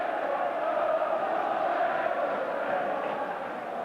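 Arsenal fans massed on the Holte End terrace at a 1979 FA Cup semi-final against Wolverhampton, a continuous distant roar of crowd noise that holds steady throughout.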